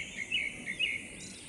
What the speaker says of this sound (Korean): 새소리 이외에는 아주 정숙합니다.